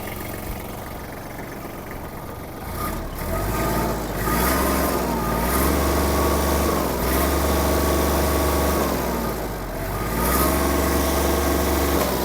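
Warmed-up Kubota GL-29 mini tractor engine runs close by with a steady throbbing idle, climbing to higher revs twice and dropping back between, with no voices.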